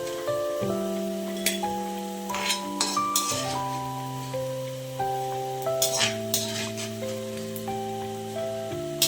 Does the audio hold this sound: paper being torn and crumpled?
no